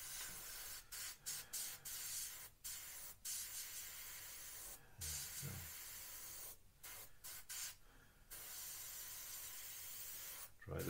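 An airbrush sprays paint in repeated short bursts of soft, steady hiss over the exhausts of a model Spitfire, with brief pauses between passes and faint handling noises, quiet and close.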